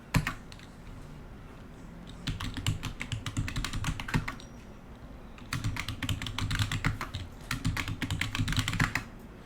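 Rapid bursts of typing on a computer keyboard, close and crisp, with short pauses separating three runs of keystrokes.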